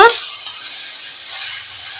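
Fried cauliflower and potato tossed into hot spice paste in a pan give a steady, close hiss of sizzling after a brief opening knock, fading slightly but continuing throughout.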